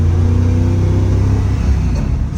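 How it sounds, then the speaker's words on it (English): A 1966 Shelby GT350 with a four-speed manual gearbox pulls hard from first into second on an open road, its engine a loud, close, deep rumbling roar that holds steady through the short burst. "We're gonna do a few gear pulls here. There's first to second."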